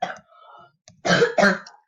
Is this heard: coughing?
yes